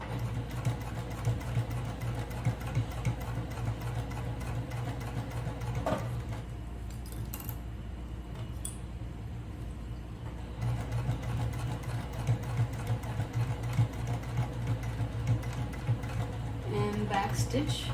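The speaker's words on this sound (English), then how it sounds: "now lower the foot presser down, and I'm going to continue to sew" A sewing machine runs steadily, stitching a shoulder bag, with a steady mechanical whir close by that pauses briefly midway before resuming, under a voice talking.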